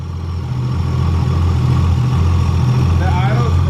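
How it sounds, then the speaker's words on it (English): A Nissan RB26 engine converted to a single turbo sits at a steady idle around 900 RPM on its first start, a loud, even low rumble with faint whistling spool tones rising near the end. "The idle's right on 900 RPM, so it's not even like high rev or anything."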